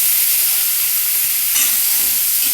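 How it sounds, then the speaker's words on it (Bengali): Cut sweet pumpkin pieces fry in oil in a kadai, giving a loud, continuous, close sizzling hiss that barely changes, with a slight swell of crackle partway through. "তাহলে কুমড়োটা আগে একটু ভেজে নিই"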